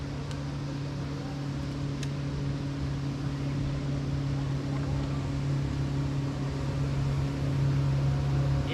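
Motorboat engine running close by on a lake during summer bass fishing, a steady loud droning hum with strong low tones that holds evenly throughout, no voices.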